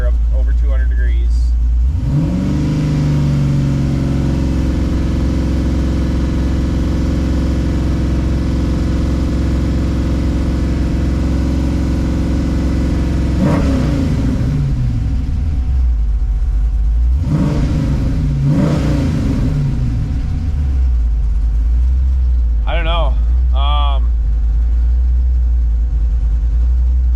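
A Pontiac Firebird with a swapped engine, fully warmed up and running low on oil pressure, hums steadily and then revs up as it drives, with the pitch rising and falling through a few throttle changes.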